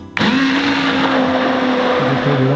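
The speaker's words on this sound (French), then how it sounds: "on va maintenant venir à l'aide d'un mixeur plongeant, venir mixer le tout pour lisser et homogénéiser." An immersion blender kicks on abruptly and whirs loudly and steadily while blending a homemade hazelnut spread, its motor drone continuous and close with no talking.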